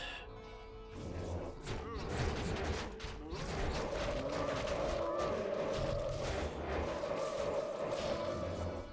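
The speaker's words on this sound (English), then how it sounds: "You can always use Corpse Explosion to get rid of monsters out of the way so you can actually target it." Corpse Explosion spells from a Necromancer in Project Diablo 2 blow apart cow monsters in a dense run of bursts and crunching blasts over a steady game soundscape, with a sustained tonal hum running through the middle.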